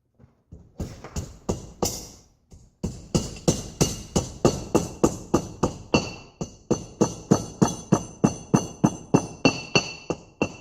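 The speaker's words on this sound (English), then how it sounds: "gotta use a hammer again" Steady, rapid hammer blows ring out one after another during car suspension and brake work, dozens of sharp metallic strikes in an even rhythm after a couple of brief pauses.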